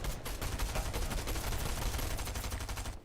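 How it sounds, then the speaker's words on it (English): Dense, continuous gunfire in a battle-royale video game endgame, with overlapping rapid bursts and sustained automatic fire filling the whole stretch at steady loudness. "Lots and lots of gunfire coming up from up top here."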